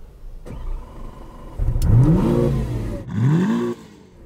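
A Lamborghini Aventador S cranks over and fires, its engine catching with a sharp rising bark, settling briefly, then blipping up again in a second loud surge, close by with no talk.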